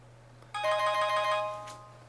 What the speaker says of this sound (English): I hate this phone ring.